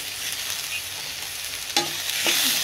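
A tomato and ginger masala being stirred in a hot pan, with a continuous sizzle and a couple of sharp scraping strokes of the spoon against the pan, close and fairly loud, with no voices.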